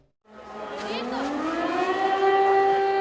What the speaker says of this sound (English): sirens blare throughout Kyiv, warning of a possible incoming aerial attack